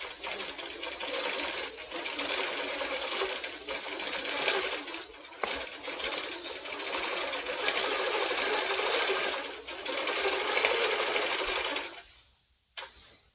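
A computerized sewing machine stitches a quilted name in a steady, rapid mechanical whir with rhythmic needle clatter, running continuously before stopping abruptly near the end.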